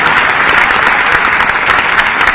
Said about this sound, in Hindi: तालियां बजे तो जोर से